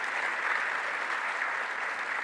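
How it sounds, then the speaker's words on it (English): A room applauds senators at a New York economic announcement, steady dense clapping throughout, moderately distant and even, with no break. "Let's give them a round of applause."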